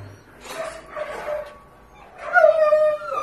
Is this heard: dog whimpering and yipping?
yes